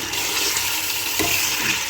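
Chicken frying in oil with salt until light brown, a dense continuous crackling sizzle, loud and close throughout.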